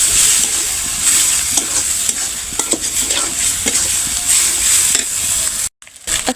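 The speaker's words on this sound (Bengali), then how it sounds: "এখানে মাছের ডিমগুলো ভেজে নিচ্ছি আর কি" Fish roe sizzles in hot oil in a home kitchen pan, a steady bright crackle with scattered stirring scrapes, fairly close and continuous, briefly cutting out near the end.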